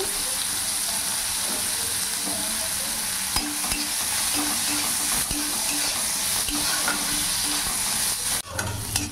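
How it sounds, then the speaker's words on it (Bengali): Chopped onion fries with cumin seeds in oil, a loud, continuous close sizzle with occasional stirring scrapes, alone without talk. "পেঁয়াজটা কিছুক্ষণ ভাজা ভাজা করে নিয়েছি"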